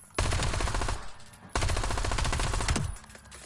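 Two rapid bursts of automatic gunfire from a weapon being test-fired in the Black Ops 7 Zombies video game, each burst about a second and a half long, loud and close with no talk.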